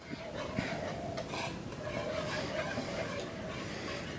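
Cajun seasoning stirred into mac and cheese in a pot makes a spoon scraping and clinking against metal in a steady rhythm, close, with a continuous background hum.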